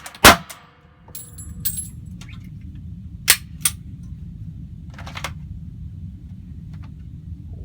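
Pistol shots on a concealed carry training range: several sharp reports, one loud and close near the start, then two more a few seconds apart, with a fainter crack later, over a steady low background rumble.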